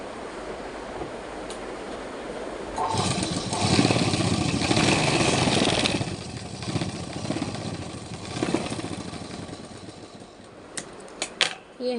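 An electric sewing machine stitching fabric for a palazzo trouser belt, its motor whirring in a steady dense run for several seconds before stopping, followed by a few sharp clicks near the end.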